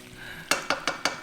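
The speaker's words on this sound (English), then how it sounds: "just keep on stirring so that you don't burn it and it doesn't stick on the wok" Adobo is stirred in a wok with no cooking oil, five evenly spaced metallic scrapes of a utensil against the pan over a quiet background.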